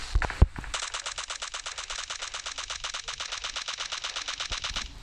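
Sustained automatic gunfire in the battle-royale game PUBG, with a rapid, even burst of loud shots rattling on for several seconds after a couple of brief opening noises.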